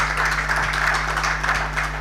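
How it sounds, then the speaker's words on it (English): A crowd claps continuously, a dense, steady patter of applause over a low electrical hum. "I believe Honorable Roland Roy deserves a better round of applause than that, right?"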